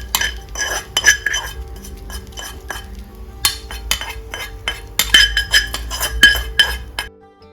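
Metal utensils clink and scrape against a pan and dishes while garlic and pepper fried in ghee are added to Kerala-style pepper chicken, with irregular sharp taps and clatters that stop near the end.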